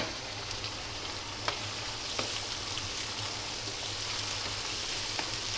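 Garlic, ginger and white cumin fry in a pan as a chicken curry base begins, giving a steady, soft sizzle with occasional small pops and no talking.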